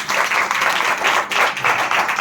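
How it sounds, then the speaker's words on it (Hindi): Congregation at a Hindi-language worship service applauds for Jesus, a dense, continuous crowd clapping that swells and dips in waves over a couple of seconds, fairly loud and close, with no clear talk over it. "तो ताली बजाओ यीशु के लिए"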